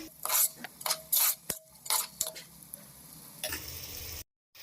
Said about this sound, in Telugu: ఆనియన్ కొంచెం ఫ్రై అయిన తర్వాత ఒక 4 పచ్చిమిర్చిని ఇలా చీలికల్లా చేసుకొని వేసుకుంటున్నాను